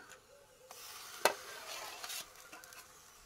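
Cumin-chili paste, onion paste and ginger-garlic paste frying in a pan for a Sundarban crab dish, a quiet sizzle with a sharp utensil clink and scraping stirs over it, close up, no talking.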